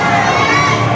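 A crowd at a USA Powerlifting meet cheers and shouts loudly through a junior raw division attempt. The noise is dense and sustained, with a voice mixed into it.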